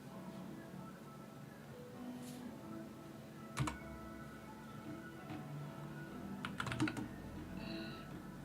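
Clicks on a computer keyboard come in two short bursts, a few isolated taps and then a quick cluster near the end, faint over a steady hum of room noise with no talking.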